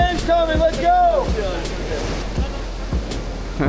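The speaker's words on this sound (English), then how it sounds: "There's waves coming." Ocean waves surge and crash along a rough shore in Mexico, a loud rushing wash of surf under excited shouting voices.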